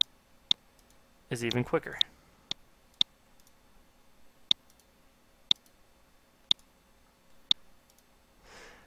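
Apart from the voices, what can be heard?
mouse clicking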